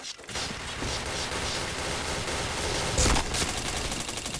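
Rapid gunfire and shooting bursts from the video game Point Blank, a dense continuous barrage with a louder burst near the end.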